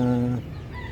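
A single drawn-out cluck from a mother hen with six chicks sounds close by, brief and fairly loud, followed by faint background noise.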